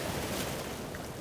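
Sea waves break steadily in the shallows along a Scottish shore, a continuous rushing wash with wind, close and fairly loud, no voices.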